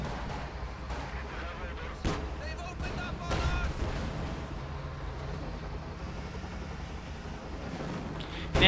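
Automatic machine-gun fire and artillery booms from a Company of Heroes 2 battle, dense rattling bursts and blasts continuing steadily under game background noise.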